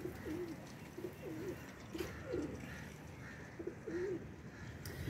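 Soft, repeated cooing from a blue pigeon, several low throaty coos in short bursts against faint background noise.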